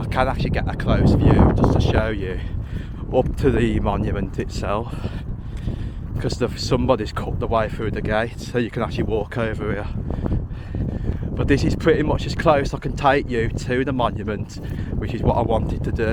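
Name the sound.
wind blowing on a hilltop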